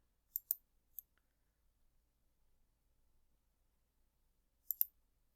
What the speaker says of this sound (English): When you click on that,